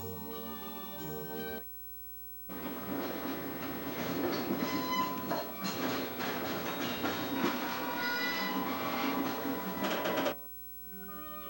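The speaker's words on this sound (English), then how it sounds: "Mechanically, she may be just like any other train." The Greenbrier Ltd passenger train bound for New York rolls along the rails with a steady rumble and rhythmic wheel clatter, fairly distant and moderate in level, fading in after a quiet gap and cutting off near the end.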